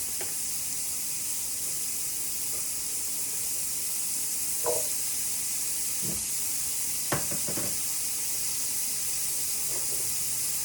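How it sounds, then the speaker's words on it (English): Cubed butternut squash frying in a pan, a steady broad sizzle and hiss holding throughout at moderate level, with a few soft clinks and stirring scrapes now and then. "I'm going to pop my squash in now"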